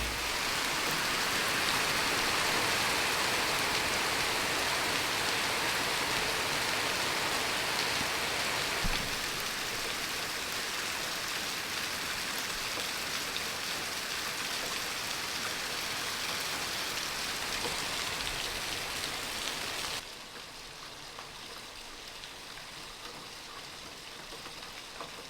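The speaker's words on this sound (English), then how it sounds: "it's still raining" Heavy rain pours down steadily as a dense, loud hiss throughout, dropping somewhat in level near the end but continuing without any voices.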